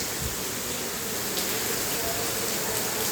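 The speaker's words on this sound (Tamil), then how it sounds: "கிளம்பலாங்கிற நேரத்தில் மழை வந்து பிரித்து எடுக்குது மக்களே. செம்ம மழை" Heavy rain pours during a road trip in Tamil Nadu, a loud, steady, unbroken hiss of rainfall with no talk over it.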